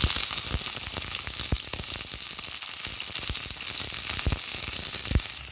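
Sliced onions, garlic, curry leaves and dried red chillies sizzle in hot oil for sambar, a loud continuous frying hiss, close up and steady throughout, broken by scattered sharp pops and crackles.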